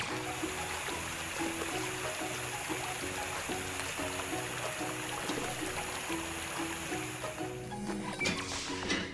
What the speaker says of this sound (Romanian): Jetul de apă ar trebui să înmoaie puțin guma.